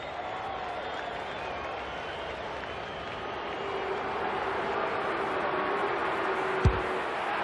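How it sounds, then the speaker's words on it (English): Broad, steady roar of a football stadium crowd at an opening-round AFL match, a continuous swell of cheering that builds slightly midway, with a brief sharp knock near the end. "Crowd noise tells you all you need to know."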